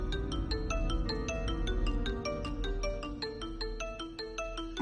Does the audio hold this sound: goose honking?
no